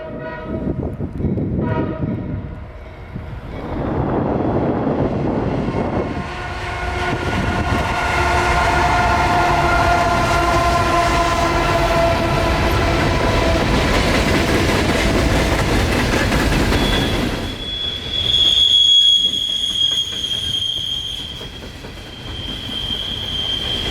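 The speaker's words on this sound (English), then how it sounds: "Ironically enough, an empty coal train." An empty coal freight train rumbles past steadily at Pennsylvania's Horseshoe Curve in winter, rolling wheel noise, its horn blaring for several seconds, then a high wheel squeal near the end.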